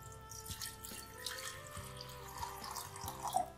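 Water being poured from a glass into a pan to make aloe vera detox tea, a steady faint trickle and splash lasting a few seconds under a low background hum.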